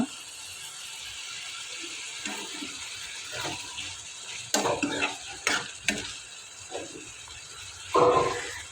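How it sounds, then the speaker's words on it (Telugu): Tomatoes frying in an oil pan for tomato chutney, a soft sizzle with scraping stirs and a few louder clatters from a utensil against the pan, close and without talking. "చూడండి టమాటాలు అయితే వేగుతున్నాయి ఇక్కడ"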